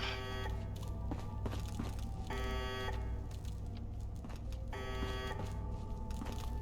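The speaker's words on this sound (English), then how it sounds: "how do I switch off that alarm?" Alarm in the video game Fallout London rings in repeated pulsing bursts with a harsh, buzzing tone, steady and continuous over a low rumbling game background.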